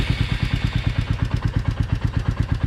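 A 2022 Royal Enfield Classic 350 motorcycle idles in neutral with a steady, even low thump of its single-cylinder engine, close and continuous, with no voices.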